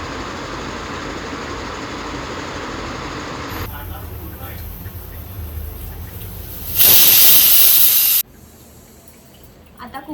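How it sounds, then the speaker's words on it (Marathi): A pressure cooker cooking mutton releases a loud, sharp steam whistle that hisses for about a second and a half and then cuts off, with steady kitchen noise and burner hiss before and after. "3 सीटी स्लोवर घेतलेत मी आणि 3 सीटी फास्टवर घेतलेत मी"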